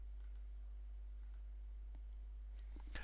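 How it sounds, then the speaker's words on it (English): A computer mouse gives a few faint, sparse clicks while text is being formatted in a text editor, followed by a sharper click cluster at the end, all under a steady low hum with no speech. "make it bold by clicking the B icon"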